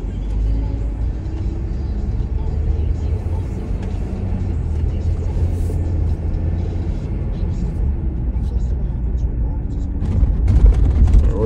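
A Land Rover Discovery 4 with a ZF 8HP automatic gearbox cruises along a rural road, a steady low cabin rumble of engine and tyres continuing throughout while a person talks over it.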